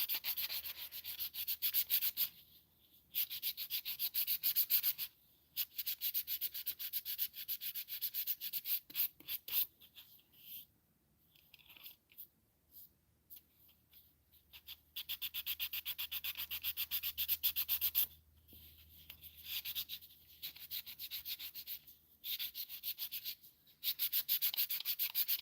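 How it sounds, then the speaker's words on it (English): Walnut wooden tree earrings are burnished by hand with steady, raspy rubbing strokes, close and fairly quiet, repeating in bursts with short pauses and no talk. "I have to burnish these a little bit"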